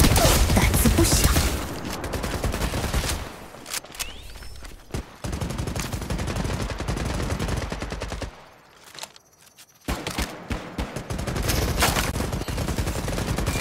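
Enemy gunfire rattles in Apex Legends Mobile, with dense bursts of rapid automatic shots, loud and close, pausing briefly in the middle before resuming in choppy volleys.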